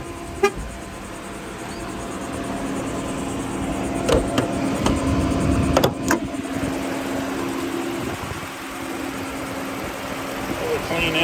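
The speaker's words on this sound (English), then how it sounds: "Really clean engine, quiet." A 2023 Ram ProMaster 3500 van's engine idles with a steady, low, quiet hum throughout, broken by a brief horn-like toot and a few sharp clicks, while a voice is heard nearby.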